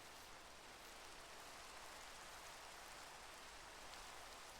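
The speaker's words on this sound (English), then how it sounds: "It is raining and it's becoming nighttime" Rain falls steadily in the Minecraft game as it turns to night, a continuous faint, even hiss with no distinct drops or voices.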